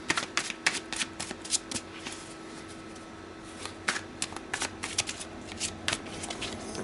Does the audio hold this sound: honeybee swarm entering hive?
no